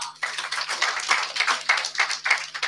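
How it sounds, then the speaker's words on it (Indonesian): A church congregation claps in a quick, irregular series of distinct hand claps close by, with a low steady hum underneath and no talking. "Tepuk tangan bagi Tuhan"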